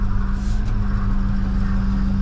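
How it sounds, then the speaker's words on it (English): A Freightliner truck engine idles and rumbles steadily nearby as the truck pulls out, a low, constant drone with a brief hiss partway through and no voices. "I'm just pulling this truck out right now"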